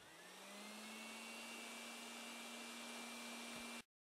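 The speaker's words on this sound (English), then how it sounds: "Give me the vacuum cleaner." A vacuum cleaner hums steadily inside a train station renovation video game. The tone is even and continuous and sits up close at a constant level for about four seconds, then cuts off abruptly, with no talking over it.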